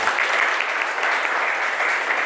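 Audience applause at a district foundation day celebration in Aurangabad, Bihar, a dense, steady clapping from a crowd, sustained and fairly loud throughout.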